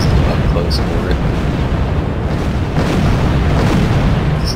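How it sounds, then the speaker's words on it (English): Artillery bombardment in the strategy game RUSE produces a dense, continuous rumble of overlapping booms, loud and unbroken throughout, with a voice commenting over it. "it's just like massive bombardments everywhere"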